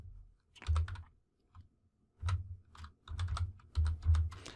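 Quick bursts of typing on a computer keyboard as HTML code is entered, close and crisp, with clustered runs of clicking keystrokes broken by short pauses.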